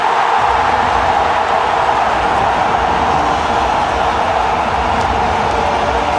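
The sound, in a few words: cricket stadium crowd cheering a wicket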